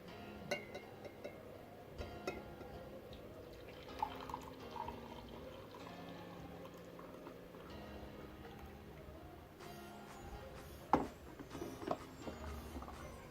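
Faint, irregular drips of filter coffee falling from a DeLonghi Cafe Otello coffee maker into a container, with soft pattering and occasional louder drops over a low background hum.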